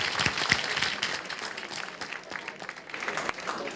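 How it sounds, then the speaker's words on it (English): Audience applause at a GDG DevFest tech event in Chennai, a dense spread of claps from a moderate-sized crowd, steady and somewhat distant, holding for several seconds. "Let's give a good round of applause."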